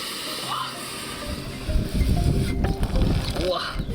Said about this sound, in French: La vapeur gonfle la panse du yak et la chaleur continue de chauffer la viande dedans.